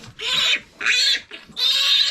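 Piglets on a pig farm, about to have their teeth clipped, squeal loudly and up close in three long, shrill bursts separated by brief gaps.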